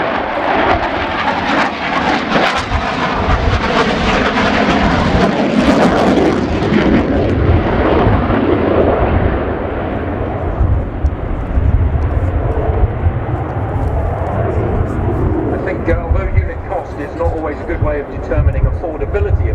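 A Romanian Air Force MiG-21 LanceR C jet flies a display at an airshow, a loud, continuous roar that swells and shifts in pitch as the aircraft passes, filling the whole stretch.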